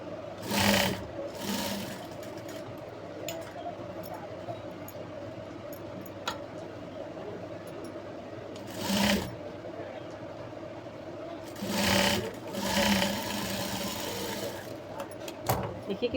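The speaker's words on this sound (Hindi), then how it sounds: "अब इस तरह से हम इसको पलटी करके इस पर दाब सिलाई लगा देंगे" Sewing machine running in short bursts while doing a flat top-stitch on fabric for a jumpsuit, with steady background hum and a few quiet pauses between stitching runs.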